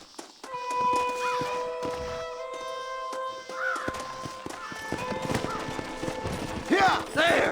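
Horses clop along in Red Dead Redemption, hooves striking in a steady walking rhythm alongside occasional whinnies and crow caws, while a sustained musical tone plays underneath.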